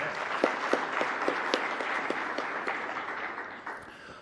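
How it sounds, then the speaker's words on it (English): Audience applause at a tech conference session on telemetry pipelines, a steady wash of clapping from a sizeable crowd with a few distinct nearby claps, tapering off near the end. "let's give a round of applause to our sponsors from last night's social"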